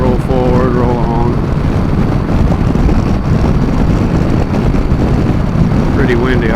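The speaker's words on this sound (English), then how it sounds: "Pretty windy." Steady, loud wind buffeting across the microphone while riding a 2018 Yamaha Eluder motorcycle, a continuous low roar that fills the clip with a voice briefly heard at the start and end.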